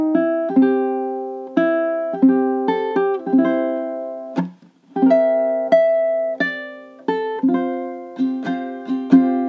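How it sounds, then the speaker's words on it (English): A ukulele plays measures 13 to 16 of a song, a run of plucked notes and strummed chords in a steady rhythm with one short pause midway, close and unaccompanied. "14, 15, and 16 should sound something like this."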